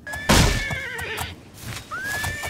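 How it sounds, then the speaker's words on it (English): A horned unicorn in The Elder Scrolls game neighs loudly and close, a long shrill whinny followed by a second rising call, with galloping hooves beneath. "the unicorn starts to buck and gallop, surely enraged by our intrusion"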